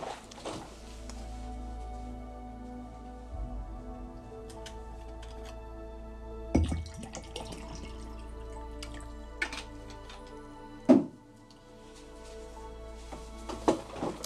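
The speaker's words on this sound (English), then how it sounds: "I'm just going to grab myself a drink of water." Water trickles and drips from a tap into a glass for a drink, a faint, intermittent splashing with a few brief clinks, set under a soft steady hum.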